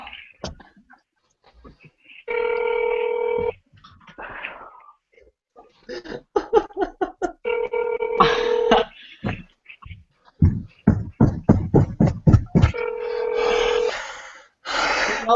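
Telephone tones from a call waiting to be picked up: steady ringback beeps repeat in separate bursts, broken up by short clicks, a prompt and exclaiming voices between them.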